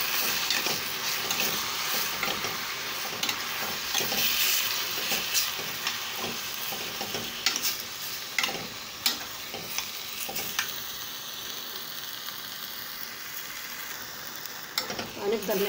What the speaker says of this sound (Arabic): هنبدأ نشوحها مع البصلة كده لحد ما لونها يتغير